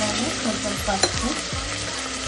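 Goat head curry fries in a pan with curry leaves, ginger-garlic paste and turmeric, a loud, dense sizzle with a few stirring scrapes partway through and no talk.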